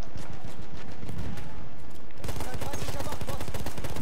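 Rapid bursts of gunfire in the video game Battlefield 1, with dense overlapping shots that grow louder and busier partway through, under some game voices.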